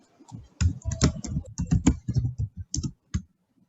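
Fingers tap out a name on a computer keyboard, a quick irregular run of crisp key clicks, close and alone without talk.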